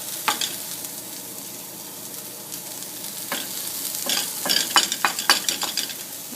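Chopped vegetables and onion hit a pan of egg mixture for a veggie omelet, setting off a steady sizzle with stirring scrapes, and the frying crackle grows busier and louder toward the end.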